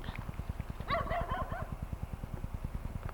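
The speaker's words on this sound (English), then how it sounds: "Of course, Brian's dog." A dog barks in a short yapping burst amid a steady rhythmic thumping background, fairly faint and at a distance.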